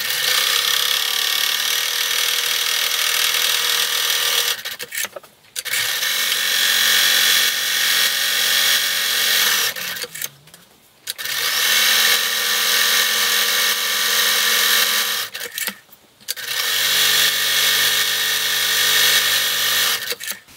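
Sewing machine running straight diagonal quilting lines through the layered fabric of a bowl cozy, with three long bursts of close, steady whirring and rattling, each separated by short pauses.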